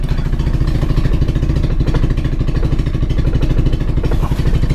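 A 1984 Opel Corsa A sedan engine running just after a cold start at about three degrees Celsius, a loud, close, slightly uneven idle with steady clattering pulses.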